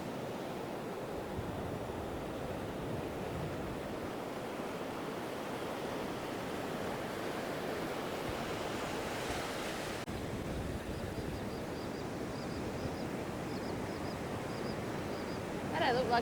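Steady, roaring broadband noise of strong wind and surf on a beach at Black Point, South West Western Australia, constant throughout with a faint high tone near the end.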